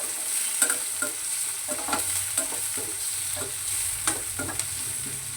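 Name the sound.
onion and green chilies sautéing in pan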